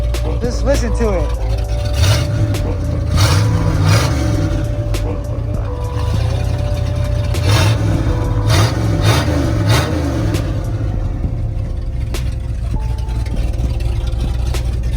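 1979 Ford F350 pickup running with its exhaust cut off, a loud rough low rumble with repeated revving bursts and rattles, close by, with some voices in the background.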